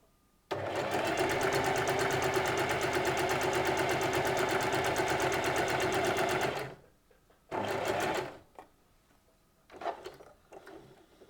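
A sewing machine stitching fabric in one long, steady run of about six seconds, then a shorter burst and a brief final spurt, recorded close with no talking.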